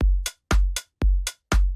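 A basic organic house drum groove, kick and short clipped open hi-hat trading off in a tight, steady pattern, four punchy cycles, loud and close with nothing else playing.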